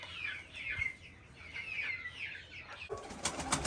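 A young pigeon's cooing calls come in a steady run of close chirps, and a burst of wing flapping follows near the end.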